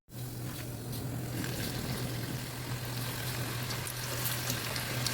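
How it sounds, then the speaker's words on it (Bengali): Onion fritters (peyaji) fry in hot oil with a steady, close sizzle and crackle over a low hum. The sound starts abruptly and stays even throughout, with no talking. "আর চলো পেঁয়াজিগুলো ভেজে নিই"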